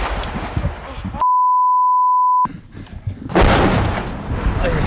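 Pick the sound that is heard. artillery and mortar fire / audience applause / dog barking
artillery and mortar fire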